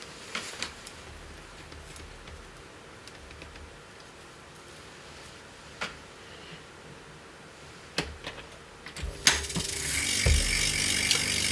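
A quarter-inch tape loop is threaded into a reel-to-reel tape machine, giving scattered small clicks and mechanical handling knocks close by, then a louder clunk and rising hiss as the machine starts at the end.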